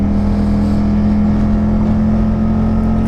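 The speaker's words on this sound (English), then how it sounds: "despite the volume of the exhaust, it sounds really good, especially when you're on it" Loud V-twin exhaust of a Can-Am Spyder ST-S running close by, a deep, steady throbbing drone with a strong low hum that stays constant throughout.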